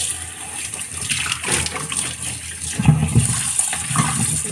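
Water pouring and splashing over squid being washed by hand in a bowl, a steady gushing rush running throughout, fairly close and loud.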